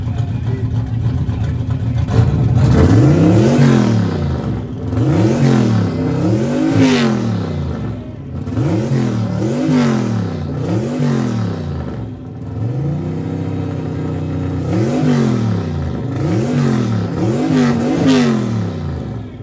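Ford Mustang Fox body at an exhaust competition, revved hard again and again to around 6,800 RPM: loud, close, rising and falling engine roars with a crowd murmuring underneath.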